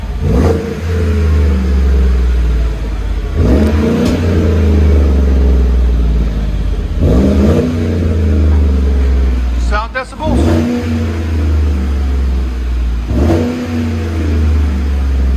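A 2017 Chevy Silverado LT 5.3L V8 with a Flowmaster Outlaw exhaust revs up repeatedly in bursts of deep, rumbling exhaust, with a voice talking over the idling between revs.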